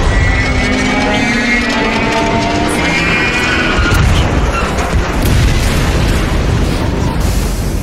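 A pod self-destructing in DOOM Eternal erupts into a loud, sustained roar of explosion and rumbling debris lasting several seconds, layered with continuous crackling blasts and game music.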